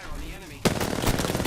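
Weapon fire in the battle-royale shooter Apex Legends: a sudden loud volley of rapid automatic shots opens midway and keeps rattling to the end, with low game ambience before it.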